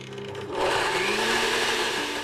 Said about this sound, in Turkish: İyice püre haline gelene kadar çalıştırıyorum.